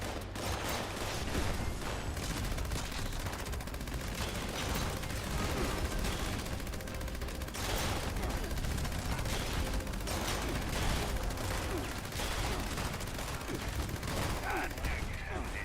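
Dense, continuous heavy gunfire in Fallout 76, a steady unbroken barrage of rapid shots at constant loudness throughout, with faint voices mixed in.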